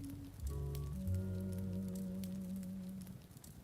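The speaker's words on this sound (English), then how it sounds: "soft rain moves like silver threads through the valley" Soft rain falls in a dim, overcast valley, a steady gentle patter at low level with sustained low tonal drones layered beneath it and no voices.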